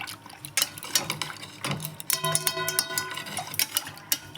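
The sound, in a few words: stirring milk and yogurt culture together in a pot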